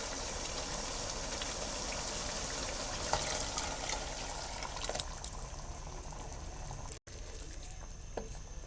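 Leftover bean-cooking water is poured into a pan of frying red beans, making a steady hiss and bubbling sizzle that carries on throughout at a moderate, close level.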